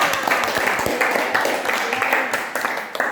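Students in a classroom applaud a group's presentation with brief, busy clapping mixed with chatter, lasting a few seconds.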